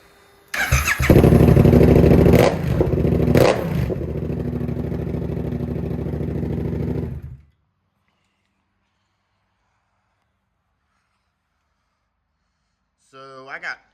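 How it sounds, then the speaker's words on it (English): Suzuki GSX-8S motorcycle fitted with a Toce exhaust cranks and fires up loudly nearby, blips the throttle a couple of times, then idles with a deep rumble before shutting off; a brief voice follows after silence. "Give you a little sound clip of it starting."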